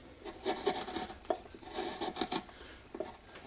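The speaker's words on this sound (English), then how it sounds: "I've got to turn my gouge a little sideways to give me the angle I want, and kind of go across the grain" A wood gouge carving across the grain, heard as close, rhythmic rasping and scraping strokes with short bursts of friction.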